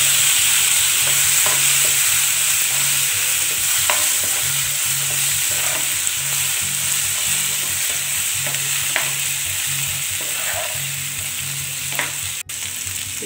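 A tempering of spices fries in a pan for Navaratri sundal made with boiled white cowpeas. A loud, continuous sizzle is broken by repeated scrapes and taps of a spoon stirring the pan, and no one speaks.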